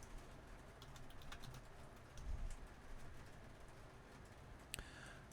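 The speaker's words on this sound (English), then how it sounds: "the rain's really coming down now" Steady rain pours down in a dense broadband wash, with a few bird calls and a sharp drip or tap near the end; no talking.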